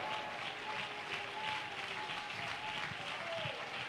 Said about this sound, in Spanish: Dale un aplauso fuerte al Señor esta noche.